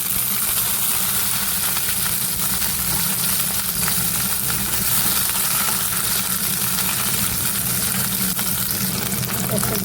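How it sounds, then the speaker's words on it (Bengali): Drumstick (sajna) pieces fry in a pan with a constant, loud sizzle and crackle of hot oil, steady from start to finish with faint kitchen noise underneath. "এবার সজনাটাগুলো ভেজে নেব।"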